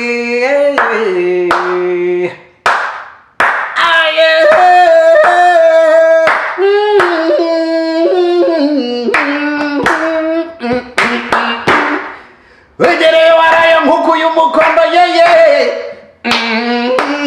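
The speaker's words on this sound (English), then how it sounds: "they clap like this" Rhythmic hand claps in a steady five-count, mixed in with several voices singing loudly throughout.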